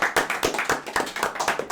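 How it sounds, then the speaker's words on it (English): Live audience clapping for comedian Nathan Hector, a brisk burst of many hands striking together at close range, steady and dense for under two seconds with no talk over it. "Can we give Nathan Hector a round of applause?"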